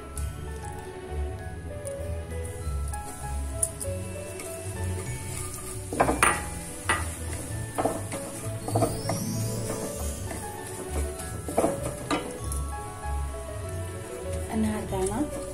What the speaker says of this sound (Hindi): अब हम इसमें तड़का लगाएंगे।